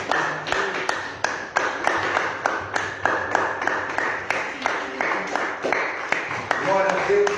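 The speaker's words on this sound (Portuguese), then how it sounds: "Aplauda o nome do Senhor Jesus." A church congregation claps in praise, a series of sharp, fairly even claps running throughout, with a voice speaking over the clapping near the end.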